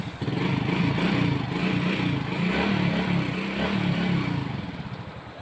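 A Suzuki Raider Fi motorcycle engine with a hard-starting fault runs steadily and loud at close range, its mid-range throb pulsing through uneven revving bursts before easing off at the end.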